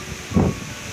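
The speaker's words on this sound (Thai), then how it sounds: "ลมแรงมากเลยนะคะตอนนี้" Strong wind blows outdoors during a heavy rainstorm, rushing steadily against the microphone with one louder, low buffeting gust midway through the short stretch. No voices are heard.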